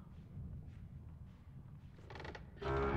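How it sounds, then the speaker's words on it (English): A creaking floor in the video game Little Nightmares gives a low, faint, grinding creak that swells, then sharper mechanical creaks that grow louder toward the end. "It's so creaky. I'm in fear of the creaking floor now."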